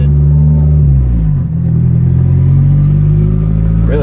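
A turbocharged 1993 Honda Civic EG, fitted with a newly installed fuel pump, is driven around the block. A loud, close, steady engine drone rumbles throughout, with a brief dip partway through, and nobody speaks.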